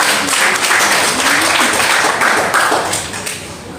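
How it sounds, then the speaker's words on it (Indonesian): Congregation applause at a church worship service held at a Papuan mess hall, a dense sustained clapping that fills the room and tapers off slightly toward the end. "berikan tepuk tangan"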